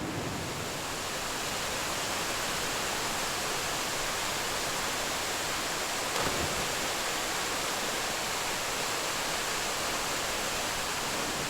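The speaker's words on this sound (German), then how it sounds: "wie hier zum Beispiel den Wasserfall" A waterfall pouring into a pool on a hike in Tsitsikamma, South Africa, gives off a steady, even rushing roar that continues unchanged throughout.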